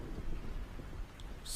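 A thunderstorm with heavy rain rumbles as a steady low roar, its dense downpour and distant thunder filling the whole stretch at a moderate, even level, with no one speaking.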